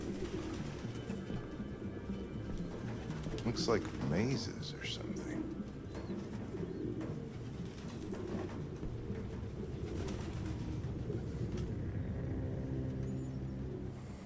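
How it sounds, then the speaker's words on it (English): Pigeons coo softly in Detroit: Become Human under a steady low background, with someone talking over them throughout. "That's what happens when you have birds. That's way too many birds."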